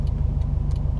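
A Subaru WRX STI drives past on a street next to an outdoor mall, a brief, loud, low engine rumble heard from inside a moving car.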